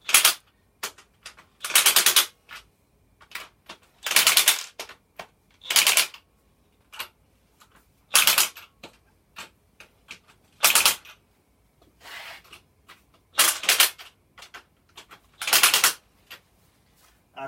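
Impact wrench driving a Snap-on 13mm socket during Jaguar V12 cylinder head work, with loud rapid hammering bursts of about a second each, repeated many times with short quiet gaps between them.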